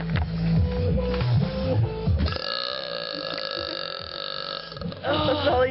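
A long, loud burp rolls out and holds steady for several seconds, its pitch wavering, after a brief burst of rough vocal noise at the start.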